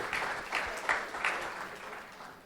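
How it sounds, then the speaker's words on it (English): An indoor audience at a business talk claps together, a steady round of applause that swells briefly and then fades out over a couple of seconds. "Give a big applause for you."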